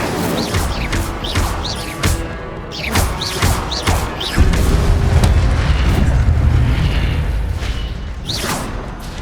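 Incendio fire spell blasts in the game Hogwarts Legacy, a series of loud booming bursts with whooshing flame, repeated several times before a sustained roaring fire.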